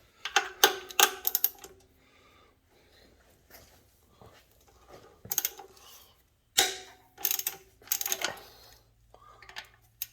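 A hand wrench works loose the 13 mm bolts on the failing CV axle support bearing of a 2011 Ford Transit Connect van, giving bursts of close metallic ratcheting and clanking separated by quieter pauses.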